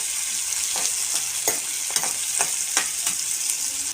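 Onion and curry leaves frying in oil in a pan, a steady close hiss of sizzling with a few louder crackling bursts and stirring scrapes every half second or so, no voices.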